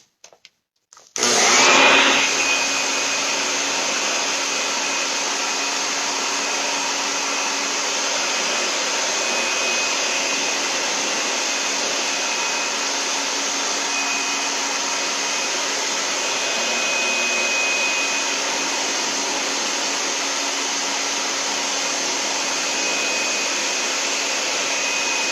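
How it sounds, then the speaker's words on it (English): A hair dryer switches on and blows with a steady, loud whooshing roar that continues unbroken, nearby, with no talking. "So I'm going to dry this a little bit real quick with my hair dryer."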